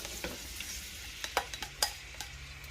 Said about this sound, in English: Okay, my oil is hot now, so I'm going to pop my onions in.